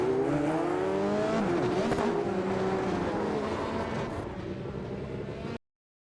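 An F3 race car at Fuji in a racing game, engine note sweeping down as it brakes late for a dive-bomb overtake, with other cars close by, steady and loud until cutting off abruptly.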